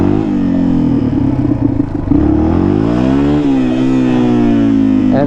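An XT motorcycle engine revs hard during wheelie practice, its pitch climbing, dipping briefly, then rising and holding high in a loud, continuous drone nearby.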